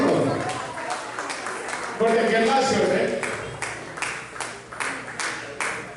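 An audience at an Utkal Divas celebration in Tampa, Florida applauds to welcome performers. The clapping is steady, with rhythmic bursts that build over the last few seconds, and a voice talks over the start.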